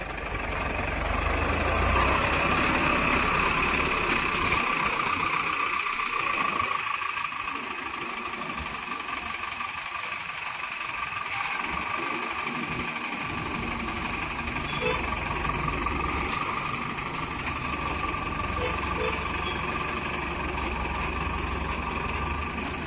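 A tipper truck's diesel engine idles steadily through a sand unloading, a continuous low rumble with a brief dip in the bass, while people speak faintly in the background.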